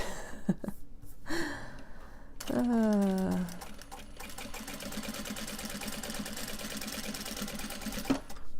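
Sewing machine top-stitching Japanese fabric for a cell phone purse, a steady close mechanical whir running through most of the stretch, with a voice and a drawn-out vocal sound near the start.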